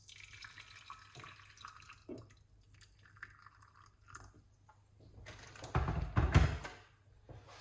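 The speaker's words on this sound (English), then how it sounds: "you get yourself some hot water and pour it on this" Hot water splashes into a cup for a honey drink, a quiet trickle and drip building to a louder pour near the end, with small clinks and handling noises before it.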